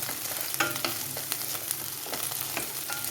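Oil in a hot pan on the stove crackling and sizzling, close and fairly quiet, with small sharp pops and stirring clicks through the short stretch.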